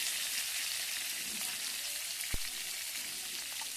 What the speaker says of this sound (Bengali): ভাজি করার জন্য কড়াইতে ঢেলে দিলাম, দিয়ে এখানে লবণ হলুদ দিয়ে দেব, দিয়ে ভালোভাবে নেড়েচেড়ে ভেজে নেব।